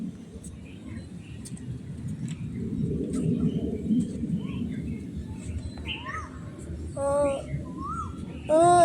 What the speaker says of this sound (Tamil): இங்கே அப்படியே குருவி பாடுற சத்தம்லாம் கேட்கும்